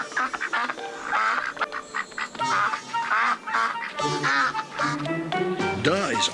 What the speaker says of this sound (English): Duh is for ducks.